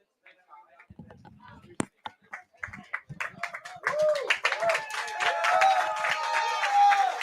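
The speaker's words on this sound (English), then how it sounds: "As you can hear, the roaring applause." Applause from a packed crowd at a live sports show at the Crow's Nest swells from scattered claps into steady clapping and cheering, with someone speaking over the start.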